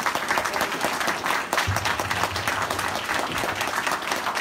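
An audience at an O'Brien County town hall applauds Congressman Steve King, a steady, dense round of clapping from a crowd filling the room, sustained without pause.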